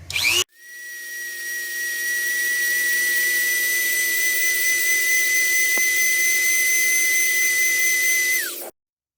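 A small rotary buffing tool spins against a scratched watch crystal after 2500-grit sanding, giving a steady high-pitched whine that holds loud and even for about eight seconds, then cuts off abruptly.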